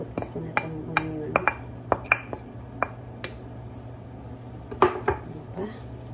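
Lebanese burger ingredients are mixed in a bowl, with a series of clinks and scrapes of utensil on dish, sparse and irregular over a steady hum, close by, with faint talk in the background.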